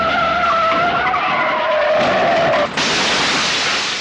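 A Rolls-Royce skids in a scene from the 1988 film 18 Again: a loud, sustained tire screech that breaks into a harsh, noisy burst near the end.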